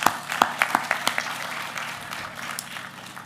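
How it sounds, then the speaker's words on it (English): Scattered claps from an audience at a hall of fame gala, a few distinct, uneven hand claps that thin out quickly into a quiet, roomy murmur. "Give yourselves a round of applause, please."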